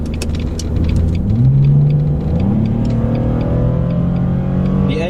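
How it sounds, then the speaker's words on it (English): A car with a 2.5 liter engine accelerates hard onto a merge, its engine rumble climbing steadily in pitch through the gears, loud and close from inside the cabin with no talking. "So here's a merge, and here's a good chance to really accelerate hard. So I'm going to do a hard acceleration here."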